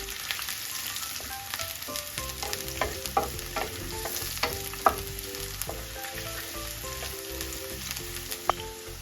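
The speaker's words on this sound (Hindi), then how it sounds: "तड़का बनाने के लिए ये प्याज इसमें ऐड करते हैं" Onion and ginger frying in hot oil for a tarka tempering for wheat dalia: a continuous close sizzle with scattered crackles and the scrape of stirring throughout.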